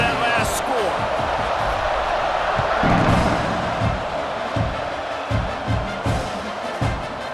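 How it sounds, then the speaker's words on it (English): A stadium crowd in the EA Sports College Football 26 video game keeps up a dense, steady roar after a score, with scattered low thumps running underneath. "this crowd is buzzing after that last score"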